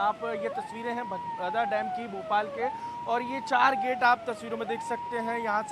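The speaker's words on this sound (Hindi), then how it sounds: "लगातार सायरन की आवाज़ आप मेरे पीछे सुन सकते हैं।" A wailing siren rises and falls repeatedly during heavy rain in Bhopal, Madhya Pradesh, loud and close, while someone talks over it continuously in Hindi.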